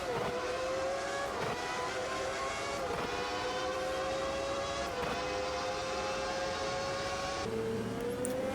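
A racing car engine in the Automobilista 2 sim racing game screams steadily at high revs, its pitch sliding up and down through gear changes, loud and continuous with no talking.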